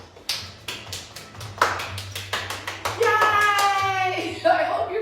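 Hands clap in a steady beat during seated chair interval exercise, with a run of crisp claps under an instructor counting aloud and a brief bright musical tone partway through.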